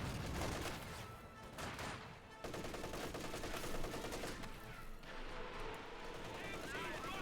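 A Katyusha rocket launcher fires in a Company of Heroes 2 match, with bursts of rapid explosive volleys and crackling gunfire layered over battle noise, heard at a low, distant-sounding level.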